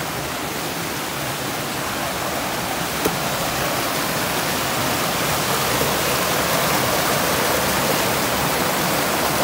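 A steady, loud rush of falling water flows without pause, like a small waterfall close by.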